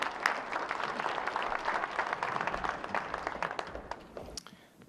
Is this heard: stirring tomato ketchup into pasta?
no